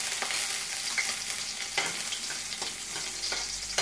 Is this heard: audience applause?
no